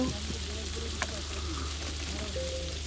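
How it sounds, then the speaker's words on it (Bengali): Hilsa fish frying in a pan, a steady close sizzle with crackling pops and a brief scrape, a voice faintly present in the background. "সেই ইলিশ মাছ এখন রান্না হচ্ছে"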